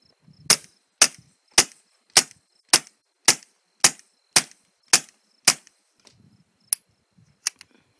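Ten evenly spaced sharp cracks from a suppressed .22 rifle firing Winchester Super X ammunition through a TBAC 22L suppressor, each shot quick and snappy. A few faint clicks and a couple of light metallic taps follow.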